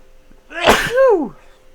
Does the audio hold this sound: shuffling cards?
no